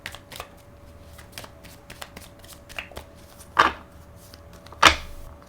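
Tarot cards are shuffled by hand in a run of soft riffling bursts, with two louder, sharper riffles near the end and no talking.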